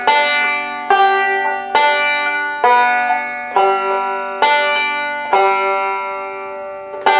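A solo banjo plays a line of tablature with a forward-reverse roll, a steady stream of bright plucked notes with regular accented strikes roughly every second, close-miked and alone.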